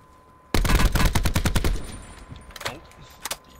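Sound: gunshots in the video game Call of Duty: Blackout

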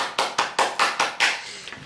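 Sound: one person clapping hands

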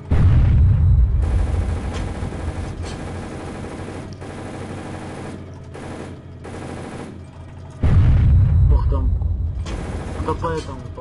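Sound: gunfire at a Hanomag halftrack in video game Iron Front ArmA 3

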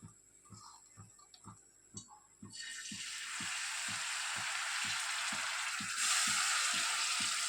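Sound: dry fish frying in oil in a pan

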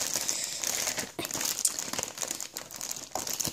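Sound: opening a large parcel with blue scissors

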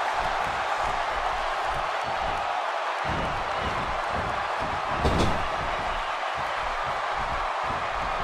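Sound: wrestling arena crowd cheering

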